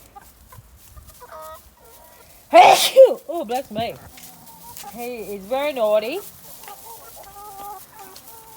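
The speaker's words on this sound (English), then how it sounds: "He's been trying to crow in the morning, starting before 5 AM." A young rooster clucks and squawks close by in a series of harsh, warbling calls, with a person speaking over and between them.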